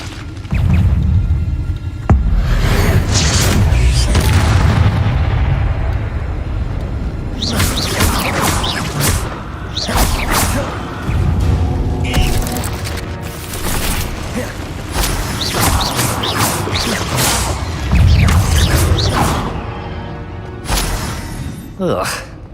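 Loud booming blasts from the Bombarda explosion spell in Hogwarts Legacy, with heavy rumbling bursts and crackling debris filling the scene, mixed with combat noise and a shouting voice.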